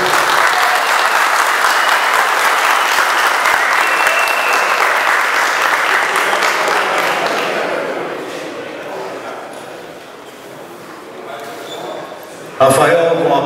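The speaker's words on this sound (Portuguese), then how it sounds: "Uma salva de palmas," A sustained round of audience applause at a press conference held at a sports club rings out loudly, then tapers to scattered claps before a sharp knock near the end.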